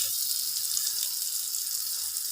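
Thick pieces of dried valai karuvadu fish fry in oil over a slow flame, a steady, even hiss of sizzling that continues without pause.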